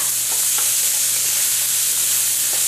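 Steady, bright sizzling of pineapple fried rice with shrimp stir-frying in a hot pan, with a few faint spatula scrapes and turns over the constant hiss.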